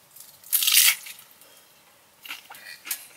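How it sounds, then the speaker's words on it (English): Crunchy bites into a homemade taco with taco sauce, eaten at a winter solo camp in a hot tent beside a lake; a loud crunch burst followed by two softer chewing crunches, close up. "so you don't have to sit here and watch me crunch"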